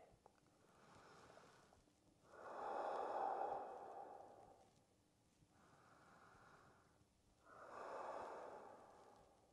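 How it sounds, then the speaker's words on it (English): Slow breathing during a yoga pose: two long, soft breaths, each a gentle inhale followed by a drawn-out exhale, close and quiet. "And breathe."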